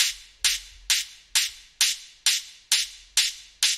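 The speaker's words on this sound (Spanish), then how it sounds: "Le puse bastante overdrive para que sonara así dirty, para que sonara sucio, fijaos la diferencia." A hard-techno open hi-hat loop pushed through heavy overdrive for a dirty, gritty sound repeats nine times at a steady pace, each hit a bright, harsh sizzle with a sustained crunchy tail, heard alone.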